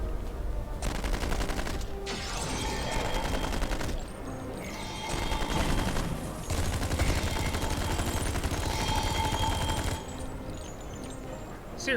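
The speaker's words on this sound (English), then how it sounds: "Nothing like an overpowered submachine gun." A submachine gun fires in Star Trek Online, long dense bursts of rapid automatic shots in rolling stretches broken by brief pauses, loud and close, with other game effects mixed under the gunfire.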